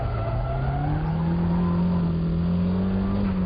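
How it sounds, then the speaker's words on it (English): A car drifts through a corner after the e-brake is pulled. A loud, close engine note climbs steadily, with faint tyre noise beneath it and no talking. "Pull the e-brake. Then you turn, just like this."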